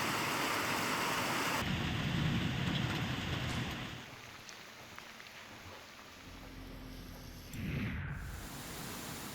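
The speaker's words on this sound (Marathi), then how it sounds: "कोकणात पावसाचा कहर बघायला मिळतोय." Heavy monsoon rain pours down in the Konkan region, a dense, steady hiss that fills the scene, softening slightly midway before swelling again, with a low rumble underneath and no voices.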